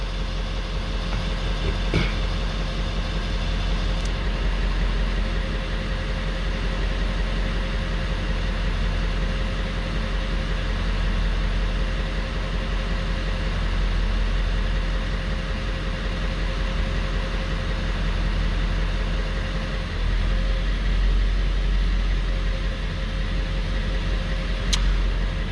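A Ford 7.3L Powerstroke diesel idles steadily right after startup, a continuous low, even rumble with a faint clatter running alone at close range throughout.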